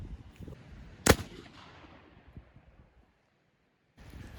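A single sharp, loud shot from a Remington 1858 black powder revolver fired outdoors during a precision test, cracking out once against faint wind noise and then fading to quiet.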